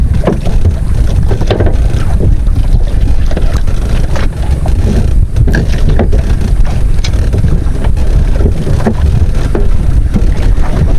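Strong wind and waves buffet a small fishing boat at sea off Nasugbu, a loud constant roar of gusting wind on the microphone over sloshing water, without talk.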